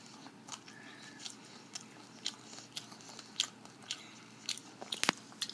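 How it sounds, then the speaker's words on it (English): A person chews crunchy food close to the mic, with irregular crisp bites and crunches scattered over a few seconds against a quiet background and no talking. "Stop chewing."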